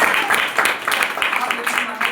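Audience applause at a direct selling industry motivational talk, a steady wash of many hands clapping close by for a couple of seconds with brief swells, no voices over it.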